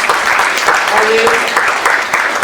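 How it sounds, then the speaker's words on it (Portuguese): A church congregation applauds during a sermon, with continuous loud clapping throughout and a speaking voice over it. "Você pode aplaudir o Senhor Jesus"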